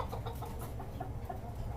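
Red and white tiger-breed chickens in a cage on a five-storey rooftop cluck softly in short repeated bursts, faint and close.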